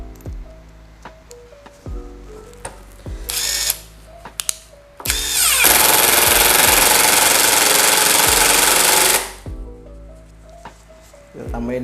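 Nagawa NID213K impact driver at speed 1 driving a 3 cm screw: short motor bursts and ratcheting clicks, then a loud sustained hammering drive lasting about four seconds before winding down, with more brief trigger pulls around it.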